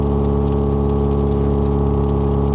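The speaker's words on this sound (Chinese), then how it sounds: "听到吗？ 换挡的声音" A Toyota GT-86 GR-S with a six-speed automatic gearbox and modified exhaust drones steadily from inside the cabin, its engine note loud and even with no clear break.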